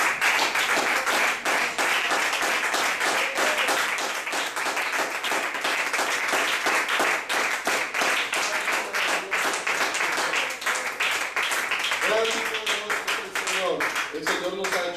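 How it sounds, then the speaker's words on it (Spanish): A church congregation claps and cheers for the Lord throughout a worship service, a dense, steady wash of hands that holds for about fifteen seconds, with voices rising through it near the end. "Denle ese aplauso al Señor que esté libre"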